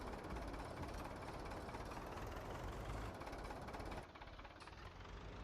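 Tractor engine in Farming Simulator 19 on an old farm during harvest, a steady low rumbling drone that runs continuously and drops slightly in level partway through, with no talk.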